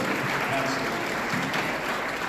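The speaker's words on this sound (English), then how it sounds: "Give yourselves a round of applause." An audience at a panel with Looney Tunes voice actors applauds in a dense, continuous wash of clapping, with voices mixed into the crowd sound.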